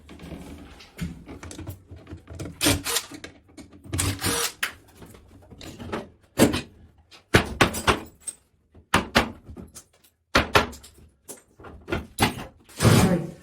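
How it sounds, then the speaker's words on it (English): Mirrored bathroom cabinet doors are taken off during demolition, making close, sharp knocks, clacks and thumps in irregular bursts separated by brief quiet gaps. "I'm going to start taking off the doors and being careful with these because they're mirror"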